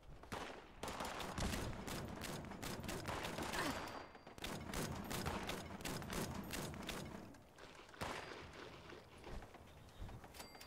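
Dense turret gunfire from Fallout 76, a continuous fusillade of rapid shots and clattering bursts that runs nearly the whole time, loud and close, with a few brief lulls between volleys.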